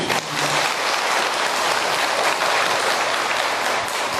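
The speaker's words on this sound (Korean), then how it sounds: "성부스님께 큰 박수 부탁드립니다." A Buddhist temple gathering gives a monk a round of applause. The loud clapping runs continuously from start to finish, dense and even.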